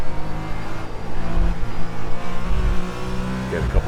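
A race car in the iRacing sim closes in with a steady engine drone that swells and climbs toward the end as it draws near, loud and up front, with no talking.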